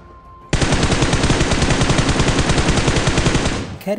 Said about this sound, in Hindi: मैं इस बंदे पे फायर तो लेता हूँ, एंड इसको अच्छा खासा डैमेज भी दे देता हूँ